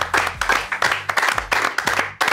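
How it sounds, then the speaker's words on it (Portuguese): A small group claps in a quick, uneven rhythm, close and fairly loud, with distinct individual hand claps rather than a large crowd. "Uma salva de palmas aí."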